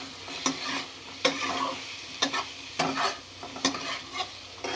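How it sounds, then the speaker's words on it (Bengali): Turmeric and spices are stirred in a sizzling pan for a thin tilapia curry with cauliflower and potato; a spoon scrapes in sharp, regular strokes over a constant frying hiss, with no voices. "দিয়ে দিচ্ছি হলুদ, সেটাও পরিমাণ মতো দিয়ে দিচ্ছি। এবার আবার একটুখানি নেড়ে নিচ্ছি।"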